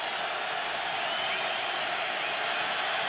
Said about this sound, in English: Crowd already in full throat on 3rd down and 8.